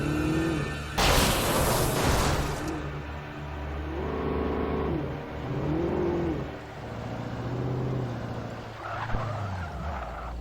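A car drifts in the Alan Wake video game: its engine revs and tires squeal through a slide, with a loud crashing burst early on, then the engine keeps surging and falling in waves with no talking.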